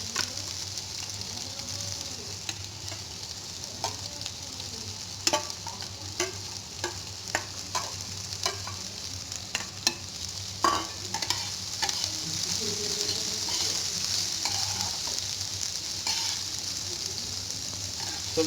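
Two big finely chopped onions fry in a pan over medium heat, a steady sizzle running throughout with frequent scrapes and clicks of stirring, close and alone without talk.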